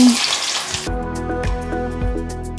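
Oil heating in a pan for a Coorg-style chicken curry gives a loud, close crackling sizzle for about a second, then fades under steady tonal sounds that hold to the end.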